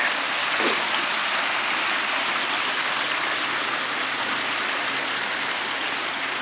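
Steady broadband rushing of flowing water, a continuous close babble of a small creek draining Fawn Lake, Pennsylvania, with no voices.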